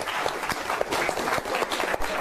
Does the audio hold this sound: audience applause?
yes